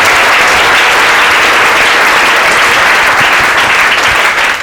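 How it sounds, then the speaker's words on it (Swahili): A church congregation at a communion service claps loudly and steadily, a dense, sustained wall of applause filling the room with no voices on top. "Pigia Yesu makofi mazuri."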